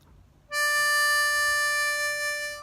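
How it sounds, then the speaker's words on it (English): A single sustained draw note on hole 5 of an A harmonica, steady and bright with rich harmonics, starting abruptly after a short silence and holding at a constant loudness to the end. "I'm going to play hole 5, breathing in on this A harmonica."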